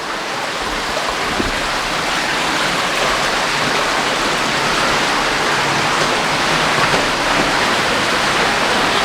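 Constant rush of flowing water fills the cave, a loud even roar of a stream close at hand.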